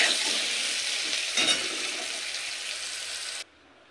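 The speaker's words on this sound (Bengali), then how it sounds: "এবার আলুটা লালচে করে ভেজে নেব। আলুটা অর্ধেক ভাজা হয়ে গেলে ডাঁটাটাও একটু নেড়ে নেব।" Potato and drumstick pieces frying in a pan, a steady dense sizzle with a brief stir midway before it cuts off abruptly; no one speaks.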